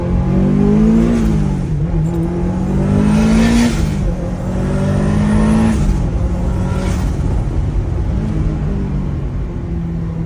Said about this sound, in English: Little heel toe right there, no problem with the clutch engagement.